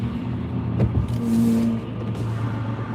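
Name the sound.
BMW car driving past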